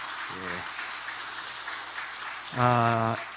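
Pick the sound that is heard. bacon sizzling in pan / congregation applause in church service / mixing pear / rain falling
congregation applause in church service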